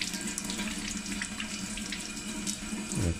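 Tap water runs steadily into a kitchen sink as a lemon is rinsed under it, a continuous close splashing with a slight change in tone at the end.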